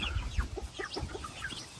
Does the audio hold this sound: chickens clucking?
yes